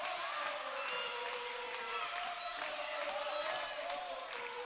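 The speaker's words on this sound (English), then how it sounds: "The crowd is alive here at the end of set 3." Steady roar of a cheering crowd fills a women's college volleyball match against Georgetown late in the third set, with a commentator talking over the constant noise.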